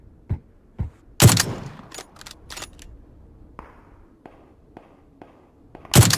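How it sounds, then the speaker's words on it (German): Gunshots in a shooter video game, loud sharp cracks fired singly and in short clusters with quieter distant reports between them, with a final heavy blast at the end. "Warte, ich schieße auf einen."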